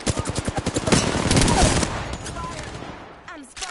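Rapid bursts of automatic gunfire from the Apex Legends video game, loud and close in a fast rhythmic string, then fading into scattered shots and effects near the end.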